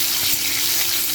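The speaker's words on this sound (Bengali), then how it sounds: "প্রথমে 4টে ডিম ভেজে নেব" Four eggs fry in hot oil in a pan, giving a loud, close, dense crackling sizzle that holds steady throughout.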